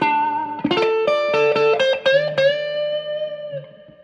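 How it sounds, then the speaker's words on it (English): An electric guitar plays through a Fender Blues Junior amp with the reverb turned up heavily, a handful of plucked notes and a chord ringing out in a long wash of reverb that slowly fades, with no talking. "You can hear how much reverb that is."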